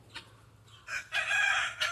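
A farmyard rooster crows in short bursts, with hen clucks mixed in; the calls start faint, then a louder, sustained crow rises near the end, close by with no talking.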